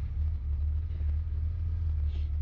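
A 1967 Ford Mustang with an automatic transmission idles close by in a steady, deep, even rumble, with no voices over it.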